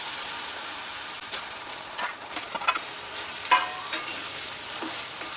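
Sliced ridge gourd hits hot oil tempered with cumin, asafoetida, curry leaves and turmeric, giving a soft steady sizzle with a few stirring clatters, close and fairly quiet.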